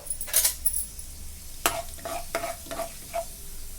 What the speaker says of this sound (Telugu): 1 స్పూను తాలింపులు, ఒక 1/2 స్పూను జీలకర్ర వేసి వేపేసుకుందాము